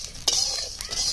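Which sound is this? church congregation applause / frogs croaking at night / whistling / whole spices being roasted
whole spices being roasted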